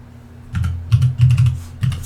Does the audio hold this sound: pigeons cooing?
no